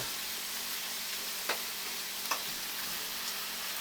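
Ground beef sausage fries quietly in a pan, giving a soft, steady sizzle with a couple of brief ticks as it is handled and no talk.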